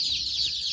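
Buff Orpington chickens, a gentle British heritage breed, cluck in a brief, steady murmur of soft calls with no talk.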